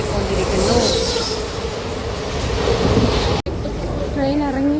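A passenger train pulls into Thiruvananthapuram at night with a steady rumble of wheels and carriages, heard from inside, with people talking over it.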